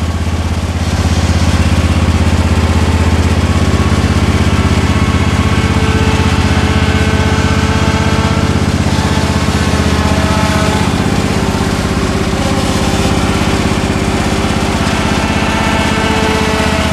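A zero-turn mower's engine drones loud and close as the machine drives down a trailer ramp, a steady unbroken roar with no talk over it.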